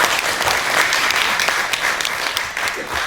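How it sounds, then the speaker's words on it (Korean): Warm applause from an audience at the 8th memorial ceremony for Dr. Lee Young-choon, sustained and fairly loud with dense overlapping claps and no speech over it. "아낌없는 뜨거운 박수 부탁드립니다"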